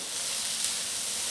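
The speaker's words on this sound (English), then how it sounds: "I'm going to saute the onions just until they soften" Diced onions sauteing in leftover bacon fat in a pan give a steady, dense sizzling hiss, close and even throughout with no talk.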